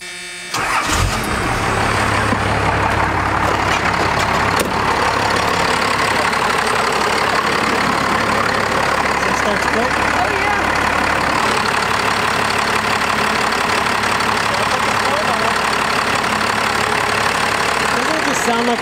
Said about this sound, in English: Sound like an old tractor.